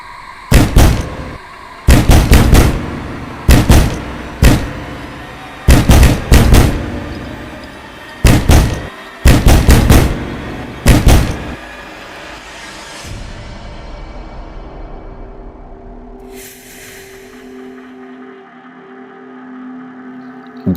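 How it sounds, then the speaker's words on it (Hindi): Hard knocking on a house door sounds in a narrated Hindi mystery story, with loud close pairs and triplets of heavy raps spaced about a second apart, then a low ambient hum and a faint creak. "धर्म सिंह घर का दरवाजा खटखटा रहा था।"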